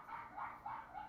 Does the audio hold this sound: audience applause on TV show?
no